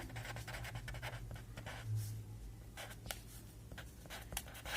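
Pen or pencil writing out a math answer by hand during a class 6 lesson, heard as soft continuous scratching strokes with short pauses, steady and close, alone without talk.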